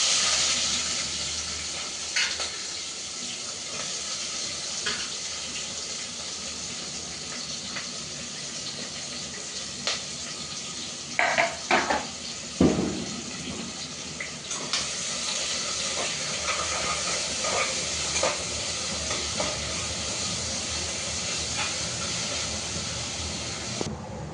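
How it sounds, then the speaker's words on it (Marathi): Two large sliced onions sizzling in hot oil in a pan for prawn pulao, a steady hissing fry with a few louder crackles and spits partway through, close and continuous with no talking. "आता तुम्ही ह्यामध्ये ॲड करू शकता हे 2 मोठे कांदे"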